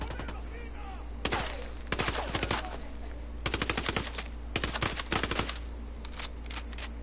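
Bursts of rapid gunfire in the Ghost Recon video game crack out in several quick volleys, loud and close, over a low steady hum, with quiet pauses between strings of shots.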